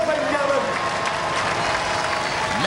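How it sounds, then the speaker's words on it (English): A studio audience applauds the robot combat teams at a televised robot fighting competition, a dense continuous wash of clapping and crowd noise that stays loud throughout. "give them a round of applause, ladies and gentlemen"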